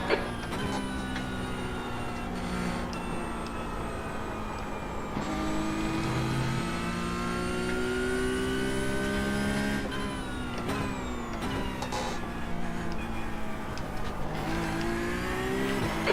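Race cars lapping a circuit in a sim race on the Nürburgring Nordschleife, a constant close engine drone with rising and falling revs and gear changes, steady and fairly loud for the whole stretch.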